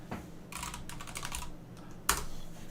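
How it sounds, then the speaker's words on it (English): Someone typing on a computer keyboard during a live stream, with a few bursts of quick, close keystrokes separated by short pauses and a single sharper key press near the end. "I'm just typing in channels you guys are telling me"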